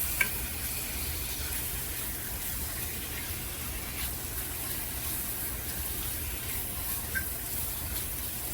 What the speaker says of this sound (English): take the rest of our meat and put it in with the onions and the garlic and just let it sear